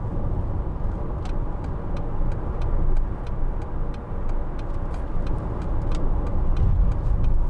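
A 2010 Mercedes-Benz CLC200 CDI SE coupe on the move, giving a steady low road and engine rumble with faint repeated ticking above it, continuous and close throughout.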